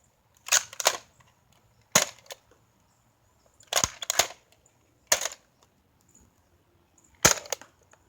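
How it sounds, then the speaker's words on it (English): A Nerf Strongarm blaster fires foam darts, heard as sharp, close snapping shots with cocking clacks in between, coming in separate clusters several seconds long against a quiet outdoor background. "We're gonna show you 3 darts normal fire and then 3 darts slam fire."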